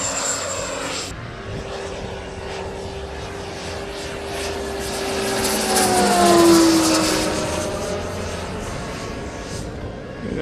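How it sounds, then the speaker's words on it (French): Turboprop aircraft engine at an air show, a steady droning whine with a Doppler pitch drop as it passes overhead, loud and moderately close throughout. "Donc vous avez un bruit de réacteur."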